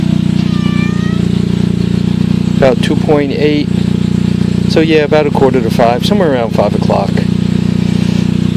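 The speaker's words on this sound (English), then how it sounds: "So you can hear the engine running in the background." A 1 kW Gillette generator engine runs steadily and loudly throughout with a constant low hum, while someone talks over it.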